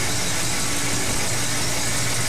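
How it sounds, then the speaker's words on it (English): Car engine fitted with a Rochester 2-barrel carburetor idling smoothly around 600 to 700 RPM, a steady, loud, unbroken drone heard close up with nothing else over it. "it's idling pretty smooth at about 600 or 700 RPM."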